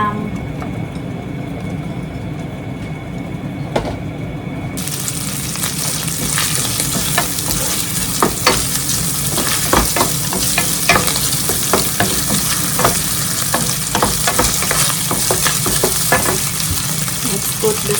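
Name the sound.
ham frying in a pan for carbonara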